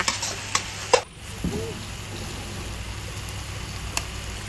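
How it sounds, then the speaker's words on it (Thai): Rice noodles with dark soy sauce are stir-fried in a pan, a soft sizzle under scraping and tossing, with a few sharp clinks of a utensil against the pan early on. "ใส่ซีอิ๊วดำลงไปนะคะ หลังจากนั้นก็ผัดคลุกเคล้าให้ทั่วเลยค่ะ"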